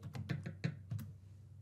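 A website name being typed on a computer keyboard: about eight quick, soft key clicks in an uneven rhythm over a second, then quiet.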